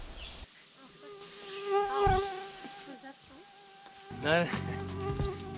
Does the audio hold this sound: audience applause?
no